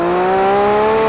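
A Lamborghini V12 engine pulls hard under acceleration, its strong steady harmonic tone rising slowly in pitch over about a second, loud and close with no voices.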